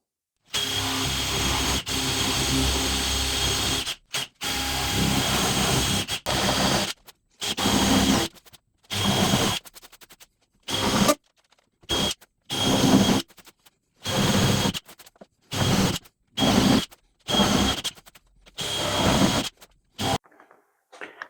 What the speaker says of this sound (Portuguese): primeiro eu vou começar o furo com a broca Forstner